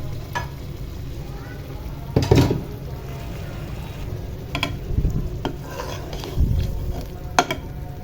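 Boneless chicken handi cooking in a pot over high heat with tomato paste, a steady sizzle and frying hiss under occasional scraping stirs and clinks of a spoon against the pan.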